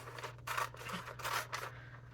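Scissors snip through glossy magazine paper in several short, close cutting bursts with brief pauses between them, crisp and fairly quiet against a low steady hum.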